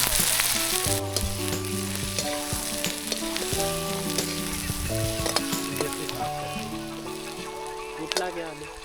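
Chopped tomatoes and capsicum hit browning onions in a pan over a campfire while making paneer lababdar, giving a steady close sizzle of frying under background music.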